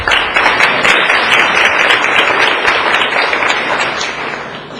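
Dense, steady applause fills a room at an Indian River County commission meeting, loud and close, slowly thinning toward the end.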